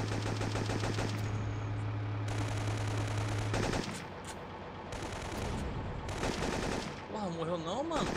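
Rapid automatic gunfire in the video game Syphon Filter 3, dense bursts of shots with pauses between volleys, over game music and effects, with a brief stretch of voices near the end.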